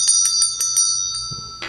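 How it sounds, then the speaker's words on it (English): A small hand bell is struck about five times in a quick, even rhythm, each ring bright and close, and the ringing dies away before one last strike right at the end, played during a tarot card reading. "we'll ring the bell again."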